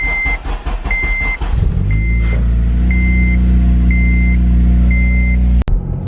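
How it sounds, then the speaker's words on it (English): A Honda Civic Si engine cranks with a rapid chugging, catches and settles into a smooth, loud idle close by, while a regular electronic chime beeps about once a second throughout. "So I'm gonna fire her up, full start."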